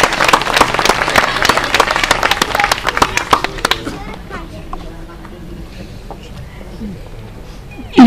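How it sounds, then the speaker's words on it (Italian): Audience applause after a choir number, loud and dense at first, then thinning out and fading to scattered claps and quiet room noise, with a brief sound near the end. "Un applauso, veramente bravi."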